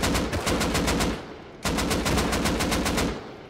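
Video game gunfire sounds as two long bursts of rapid automatic fire, each with an evenly spaced rattle of shots, loud and close, separated by a brief gap.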